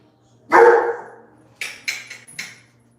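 A dog lets out one loud, close bark followed by a quick run of four shorter, sharper barks, indoors with no talking over them.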